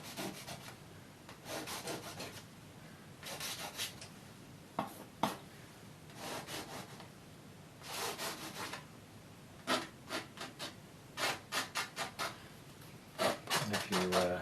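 A palette knife scrapes brown oil paint in short rubbing strokes during a wet-on-wet oil painting of a Lake District scene, coming in scattered bursts and quick runs of scrapes, close and fairly soft, with faint talk in places.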